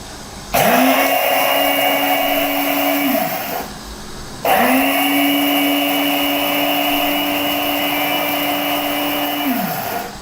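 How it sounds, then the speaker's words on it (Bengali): An electric spice grinder pulverises raw, unroasted panch phoron whole spice mix into powder in two loud, steady whirring bursts, about three and six seconds long, with a short pause between them. "এই যে পাঁচফোড়ন গুঁড়ো করলাম"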